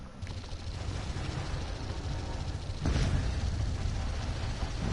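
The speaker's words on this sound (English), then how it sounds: "Good explosion." A muffled explosion in the PS4 video game Project Root, a sudden dull boom that swells into a sustained rumbling roar over a continuous droning game background.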